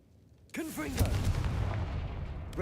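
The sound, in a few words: Confringo spell cast in Hogwarts Legacy video game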